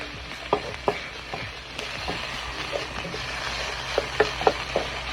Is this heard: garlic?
yes